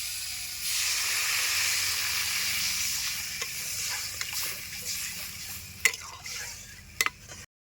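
Water goes onto vegetables already well sautéed in a pan for a kohlrabi and chang fish dish. A loud steady sizzle and hiss starts the clip and fades into softer bubbling, broken by a few sharp clinks near the end.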